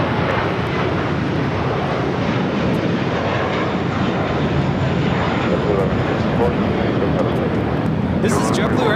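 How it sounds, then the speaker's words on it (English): JetBlue Airbus A321 jet taking off, a constant loud engine roar filling the whole stretch, with a voice speaking over it. "This is JetBlue Airways Flight 1124 taking off to JFK on an A321"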